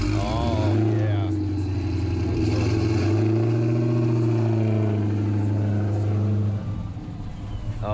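A Dodge Challenger with a 492 Hemi V8 and Corsa catback exhaust rumbles and revs close by, a deep steady drone that swells and eases, while people talk over it.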